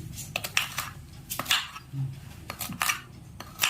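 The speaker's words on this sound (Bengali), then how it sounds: "গোল করে কচুটা কেটে নিচ্ছি" A knife slices peeled taro root into round pieces, giving a quick irregular series of sharp close cuts and clicks against a board or plate, with faint kitchen background and no talk.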